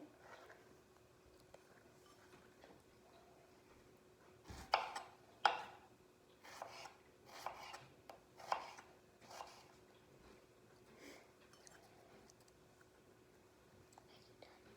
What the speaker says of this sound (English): I'm cutting the tips off of the strawberries